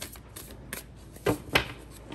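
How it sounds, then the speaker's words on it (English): A deck of tarot cards is shuffled up close in a few soft riffling bursts, with two louder snaps near the end and no talking. "Can y'all see me shuffling?"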